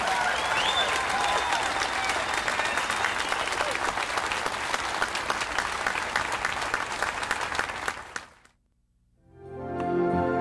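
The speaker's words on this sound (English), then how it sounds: "give one giant celebratory clap for the class of 2001 to the Pro Rodeo Hall of Fame" An audience at the Pro Rodeo Hall of Fame induction ceremony for the class of 2001 gives sustained, dense applause for about eight seconds, then it stops abruptly, and a quieter sound follows.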